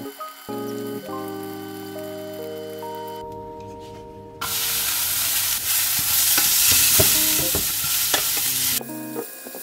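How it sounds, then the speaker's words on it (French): Tofu sizzles loudly in a frying pan, browning with steady hissing and crackling broken by stirring and scraping, close and continuous after a quieter start. "je vais faire dorer les tofu en premier"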